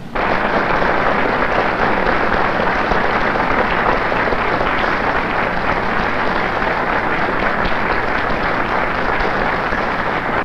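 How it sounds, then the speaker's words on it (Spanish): A large crowd in Panama applauds the visiting heads of state, a loud, dense, unbroken wash of clapping and cheering that holds steady for about ten seconds with no pauses. "nos paremos y le demos un aplauso a los mandatarios visitantes"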